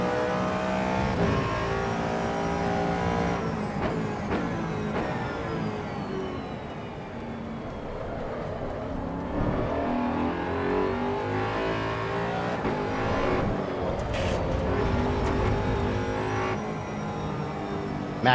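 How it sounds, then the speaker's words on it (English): Race car engine and intake roar from Project Motor Racing, a loud sustained drone with rising and falling revs through gear changes over about eighteen seconds, steady and close with no talking. "This is the sound of this car."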